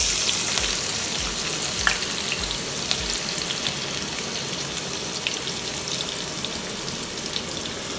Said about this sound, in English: We are going to fry the onions until golden brown